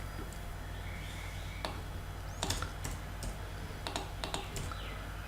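Computer keyboard keys tapped in short, irregular bursts of clicks, close and fairly soft over a steady background hum, with a few sharper isolated key presses among them.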